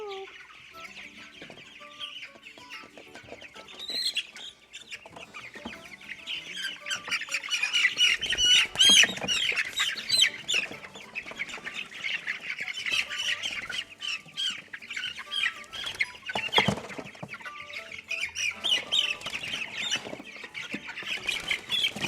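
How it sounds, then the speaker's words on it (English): Pastured poultry chickens squawk and cluck loudly and continuously as they are caught, the agitated calls overlapping and rising in bursts, with handling noises beneath. "All right, time to wrestle up some birds."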